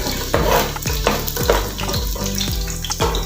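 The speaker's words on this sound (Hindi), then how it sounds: "ऑयल में अब मैं शामिल करूँगी ये प्याज।" Onions frying in hot oil in a pot, a dense continuous sizzle with steady stirring scrapes, close and loud throughout.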